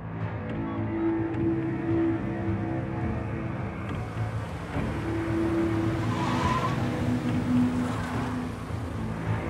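A car braking with tires skidding, a loud, close engine rumble and a sustained rubbery squeal that swells midway before fading as the car slows, with no voices.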